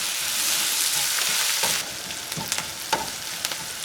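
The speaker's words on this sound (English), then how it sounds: "pay attention to your caramelization of onions and the ground beef" Onions and ground beef fry and caramelize in a pan with a loud, dense sizzle that eases after about two seconds, followed by several sharp scraping stirs against the pan.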